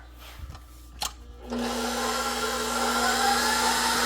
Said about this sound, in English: we're gonna mix that before we add anything else just to break up the egg yolks